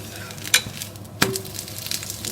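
Moringa (drumstick leaf) dosa sizzles in an oiled pan on low flame as it is flipped, a steady soft crackle broken by two sharp clacks of the spatula, close up with no talk.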